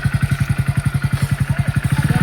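Motorcycle engine running close by, a steady rapid low throbbing pulse of even beats, loud and continuous with no talk over it.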